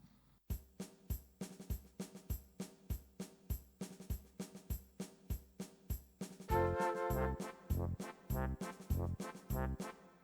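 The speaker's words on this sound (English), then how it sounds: "So it has previewed some of the sounds you probably, and I'm hearing something like trumpet and, oh sorry, sweet flute." A Yamaha DGX-650 digital keyboard runs its voice preview, with steady repeated notes played as trumpet and then flute tones, brighter and fuller in the second half, loud and alone with no talking.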